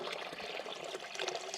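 Settled water pours steadily into a Platypus dirty bag, a soft continuous splashing and trickling stream, faint and close, with no voices.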